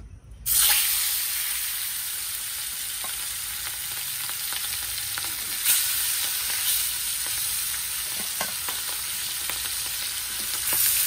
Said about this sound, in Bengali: এখন তেল ছিটে আসবে, কারণ পাঙাশ মাছের তো প্রচন্ড তেল ছেটে